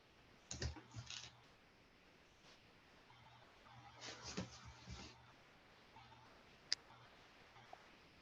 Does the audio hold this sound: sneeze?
no